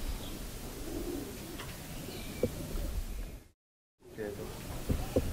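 A racing pigeon, a top long-distance flyer, coos softly in a loft amid low rustling and background murmur, with a short silent gap before the cooing resumes.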